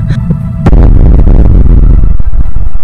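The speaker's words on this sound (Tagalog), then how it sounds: "Lumikha iyon ng napakalakas na pagsabog" A very loud explosion as a church is destroyed, a dramatized effect: a brief rumble and pop, then a sudden massive blast that stays dense and booming for over two seconds, rumbling and crackling.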